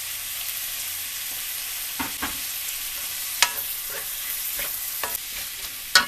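Garlic and tomato sauté in a pan for squid adobo, giving a steady close frying hiss broken by occasional sharp scrapes and taps of a spatula.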